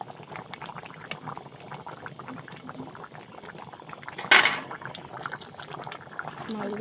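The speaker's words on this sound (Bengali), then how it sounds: "তো এবার আমি একটু নাড়াচাড়া করে দিই।" Fish head curry with taro simmers and bubbles in a wok while being stirred, giving a continuous soft sizzling, with one sharp scraping clatter near the end.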